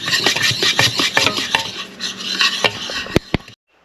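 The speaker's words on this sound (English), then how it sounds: "we're going to mix this all together" Dry ingredients get mixed together in a bowl, a busy run of utensil scraping and clinking against the bowl, with a couple of sharp taps before it stops abruptly.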